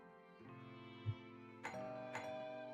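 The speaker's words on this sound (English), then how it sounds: "Just then, Amber Hall's doorbell rings." Doorbell ringing in the video game Zenless Zone Zero, two bright chime strikes about half a second apart over soft sustained background music, fairly quiet.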